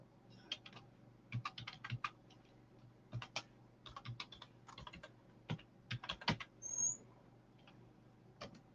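Typing on a computer keyboard during a live sterling jewelry auction stream, bursts of quick key clicks in irregular clusters, fairly close and moderately quiet, with short pauses between runs and no talk.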